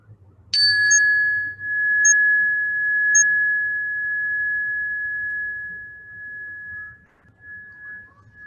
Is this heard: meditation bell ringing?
yes